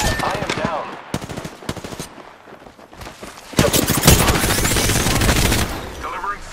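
Loud automatic gunfire bursts from an Apex Legends firefight, rapid rattling volleys that swell into a sustained barrage, mixed with game character callouts.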